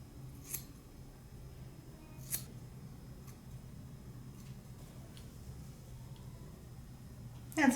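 Scissors snipping long curly hair during a home haircut, a few sharp isolated cuts spaced seconds apart in a quiet room, with a louder burst of snipping at the end.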